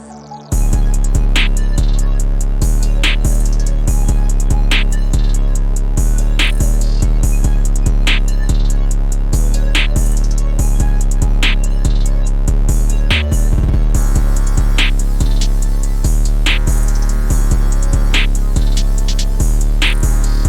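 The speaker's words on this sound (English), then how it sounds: "as soon as the beat drops, the counter melody starts playing" Trap beat bridge section with a pounding 808 bass, crisp hi-hats and sharp snare hits, a glitchy texture and a counter melody riding over it; loud, dense and continuous with a brief dropout near the middle.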